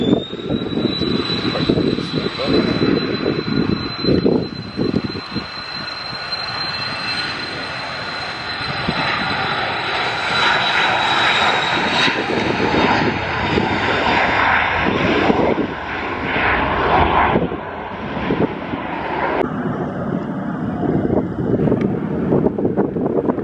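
Eastern Airways airliner at East Midlands Airport, a steady loud engine roar with a high whine building and fading over about twenty seconds, wind buffeting the microphone throughout, no talk.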